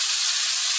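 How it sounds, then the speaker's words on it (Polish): A constant, close hiss of chicken breast frying in olive oil in a pan, bright and steady with no pauses. "smażę na patelni, na oliwie"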